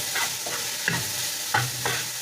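Onions returned to a pan of frying minced meat crackle and hiss steadily, with a few utensil knocks and scrapes cutting through the sizzle and no one talking.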